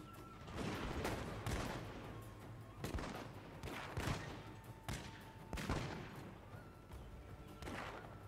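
In a Shogun 2 battle, Portuguese arquebusiers face teppo ashigaru, and their arquebus volleys crackle out in about eight rolling bursts that follow one another at a fairly distant, subdued level.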